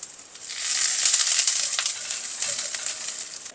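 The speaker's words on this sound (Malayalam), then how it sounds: "എണ്ണ ചൂടാകുന്നുണ്ടെങ്കിൽ നമുക്ക് കടുകിടാം. അതിനോടൊപ്പം തന്നെ വെളുത്തുള്ളി ചെറുതായിട്ട് അരിഞ്ഞത്" Mustard seeds and chopped garlic fry in hot coconut oil for a Kerala-style cluster beans thoran, giving a close, steady hiss with fine popping crackles that slowly eases off.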